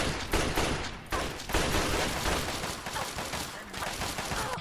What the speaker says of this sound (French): On peut essayer le pistolet 32.